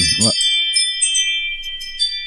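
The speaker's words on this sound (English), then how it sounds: "it's my flipping new Ring doorbell" A new Ring video doorbell chime rings out as a bright, tinkling electronic melody of several tones, following a brief burst of speech at the start.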